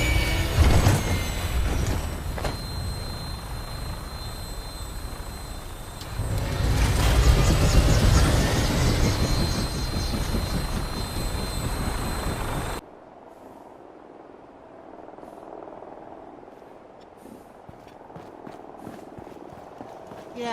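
An aircraft landing rough in Fallout 4, a loud rumbling roar with a heavy thud partway through, then a sudden cut to a quiet, low ambient hum.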